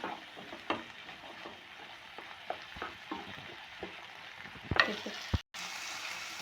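Green peas with garam masala fry quietly in a pan: a faint, steady sizzle broken by scattered stirring clicks and scrapes, with one sharper clatter near the end.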